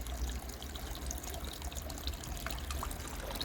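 Kitchen drain water flowing through a plastic PVC waste pipe during a plumbing inspection in Ankara, a steady, continuous trickling wash with faint dribbles, heard close and alone.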